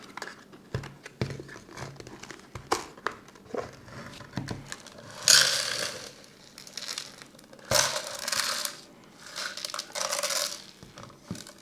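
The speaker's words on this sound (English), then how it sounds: "Now let's empty the container." Debris from a Bosch Serie 2 Readyy'y 16V cordless stick vacuum's cyclone dust container being emptied: scattered clicks, plastic knocks and a few short rattling, rushing bursts, close and fairly quiet.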